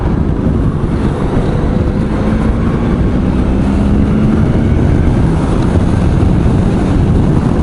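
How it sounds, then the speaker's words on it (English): Heavy wind buffeting a microphone on a ridden 3 X 3 / ST motorcycle on a windy back road, a loud continuous low rumble and roar with no speech. "it's pretty bloody windy today, as you can probably tell"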